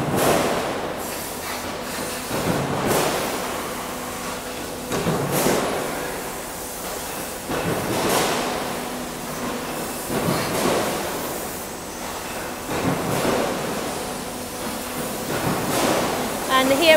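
A fence post roll forming machine runs steadily as one-millimetre sheet metal feeds into the forming section, giving a continuous loud mechanical rumble with periodic swelling whooshes every couple of seconds.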